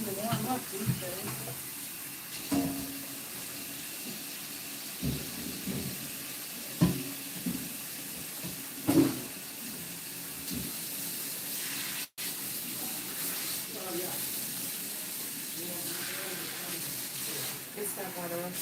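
Warm water runs from a hair salon sink tap with a steady faint hiss throughout, under people talking and occasional knocks and clatter.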